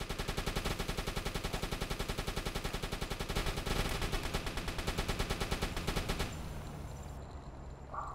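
Anti-aircraft fire from U-boat gunners in the submarine game Uboat rattles out as a loud, rapid, steady burst of automatic shots for about six seconds, then breaks off into quieter rumbling ambience.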